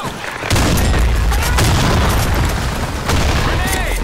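A grenade goes off in the online shooter Blackshot during a team match, a loud booming blast opening with a sharp onset and a second hit near the end, amid gunfire and game noise.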